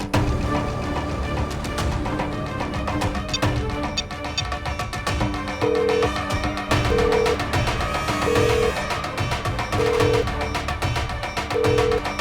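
A telephone rings on unanswered in a Hindi television drama scene, its evenly spaced ring pulses repeating over loud, dense background music.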